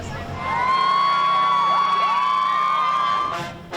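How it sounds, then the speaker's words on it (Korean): Crowd cheering and whooping at the New York Thanksgiving parade, a loud sustained roar with shouting voices rising over a long steady whistle-like tone, fading out at the end. "곳곳에서 환호성이 터져 나옵니다"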